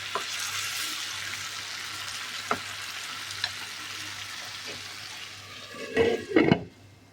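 Tomatoes frying in a pan for shiro, a soft continuous sizzle with occasional taps, then a louder burst of stirring and scraping near the end.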